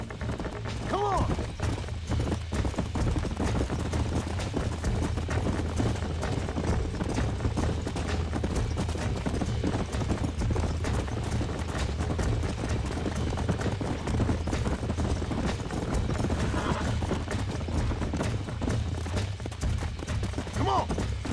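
Horses gallop in Red Dead Redemption with rapid, continuous hoofbeats over a low rumbling background, steady and fairly distant throughout.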